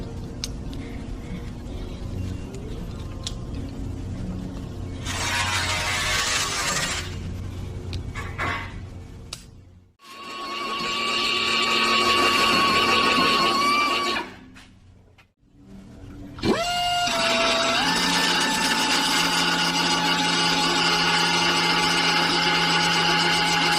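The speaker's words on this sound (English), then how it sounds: "So the process of grinding down has begun." An angle grinder grinds down spot welds on a car bedside panel: loud, harsh whining bursts that spin up, hold, then stop, with short quiet gaps between passes and rising pitch at each restart.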